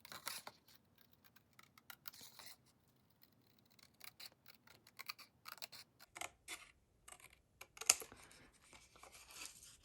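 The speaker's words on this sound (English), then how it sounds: "So just cut like a small sliver like this all around the heart." Scissors snip a small sliver of paper around a cut-out heart for a gift box, producing quiet, close, irregular clipping and rustling that comes in bursts with a few brief pauses.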